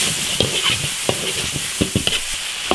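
Beef stir-fried in an iron wok with pepper and soy sauce sizzles steadily while a spatula scrapes and knocks against the pan in irregular strokes, close and clear with no talk.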